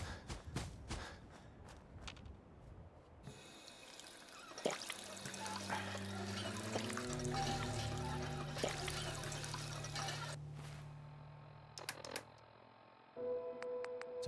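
A water pump working in Fallout 4, a steady rushing pour with mechanical creaks and tonal hums rising over several seconds before stopping, set between footsteps and faint clicks.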